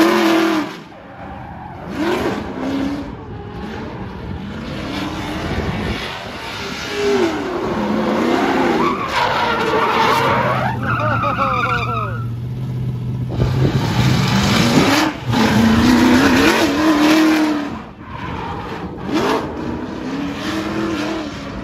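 A drift car slides with loud, sustained tire squeals and engine revving, the screeching rising and falling across several passes close by, with no talking.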